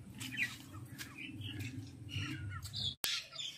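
Pet parrots squawk and chatter continuously at close range in a home, with harsh overlapping calls, one sharp click near the end, and no talking.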